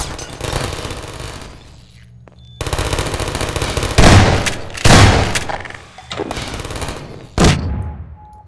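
Automatic gunfire in Half-Life 2, with rapid machine-gun bursts rattling in several loud volleys and short pauses between them, plus a few heavy booming hits.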